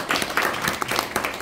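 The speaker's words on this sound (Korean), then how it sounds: "잠깐만 일어나시고 정현희 박사에서 박수 한번 부탁드리겠습니다" Audience applause at an air power generator development forum, as a doctor stands to be recognized; a short burst of steady, moderately loud clapping from a seated crowd with no talking over it.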